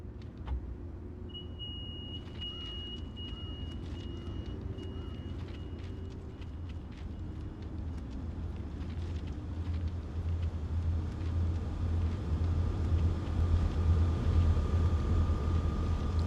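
Idling trains in Train Sim World 4 hum with a steady low drone and a thin high whine, the rumble gradually growing louder over the stretch with scattered small clicks.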